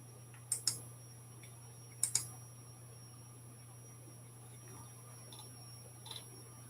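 A computer mouse clicks twice in quick pairs, sharp and close, with a couple of fainter clicks later over a steady electrical hum.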